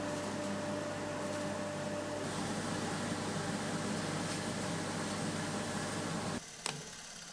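A Carbatec 1HP wall-mounted dust extractor in a small workshop, giving a steady, loud broadband whooshing hum with a faint tonal whine early on, then cutting off abruptly near the end, followed by a brief click.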